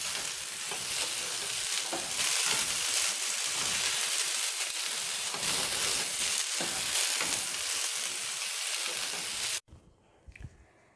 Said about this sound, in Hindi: भिंडी को स्लो फ्लेम पे फ्राई करेंगे ताकि इसकी चिकनाहट खत्म हो जाए